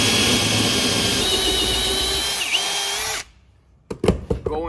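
A power drill spinning at high RPM during a Hevea cutting edge install, a loud, close, steady whine for about three seconds that cuts off abruptly, followed by a few brief clunks and handling noises.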